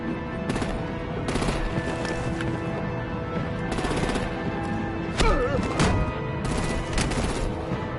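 Gunfire and heavy artillery blasts during a vehicle attack in the Batman: The Enemy Within video game, with repeated bursts of shots and thuds over dense game music and effects, and voices shouting in between.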